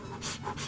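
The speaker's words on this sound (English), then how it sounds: "Doing your breathing exercises?" A person panting heavily in quick rhythmic breaths, close and fairly soft, like someone doing breathing exercises.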